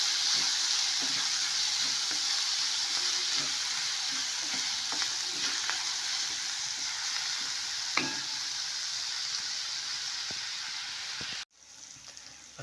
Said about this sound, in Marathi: पुन्हा एकदा व्यवस्थित असं मिक्स करून घेऊया.